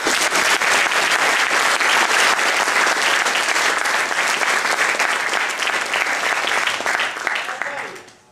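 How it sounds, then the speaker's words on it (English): A lecture audience claps in a sustained, even round of applause that holds strong for several seconds, then tapers and fades out at the end. "Can I have a big round of applause for them?"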